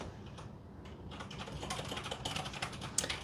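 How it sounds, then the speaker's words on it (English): Fast, continuous typing on a computer keyboard while programming, a busy clatter of key presses heard in the background of a quiet room. "The mad typing in the background is my man programming."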